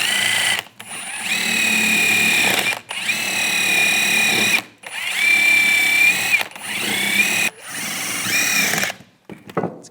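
A wire brush spun by a power drill scrubs a brake caliper bracket on a 2010-2014 Volkswagen GTI, a close, loud whirring grind in five bursts separated by short pauses, with a high whine throughout.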